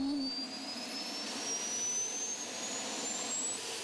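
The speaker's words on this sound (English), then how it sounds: "Getting a jet tractor started requires several steps" A jet-powered tractor roaring as it starts up, a loud continuous close-up turbine whoosh with a thin rising whine above it, steady throughout with no talk.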